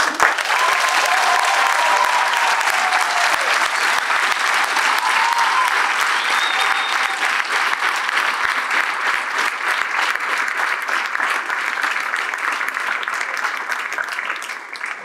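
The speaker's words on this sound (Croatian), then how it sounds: "Još jedan aplauz." An audience applauds after a school play at a school celebration, sustained dense clapping filling the hall, gradually thinning toward the end.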